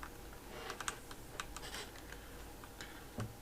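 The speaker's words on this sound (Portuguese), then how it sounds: "eu vou digitar float, vou digitar input e eu vou digitar aqui entre com o valor do salário" Python code being typed on a computer keyboard, a steady run of light, close key clicks at an irregular pace over a soft background hiss.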